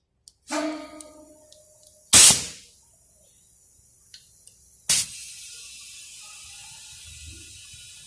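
A valve tool works on a tire valve: a short ratcheting clatter, a loud burst of air hiss, faint clicks, then a second sharp hiss that fades into a long, quiet airy tail. Nobody speaks.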